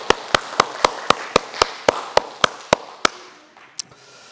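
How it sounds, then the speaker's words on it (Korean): A church congregation claps together in a steady, even rhythm, roughly a dozen crisp claps about a quarter-second apart, before falling quiet. "우리 영광의 박수 크게 한번 올리겠습니다."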